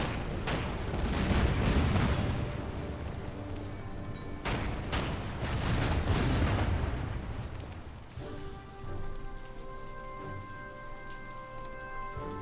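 Artillery barrages and gunfire in the wartime strategy video game Order of Battle with US Marines, dense booming volleys and rumbling blasts, then a sustained musical drone under lighter fire.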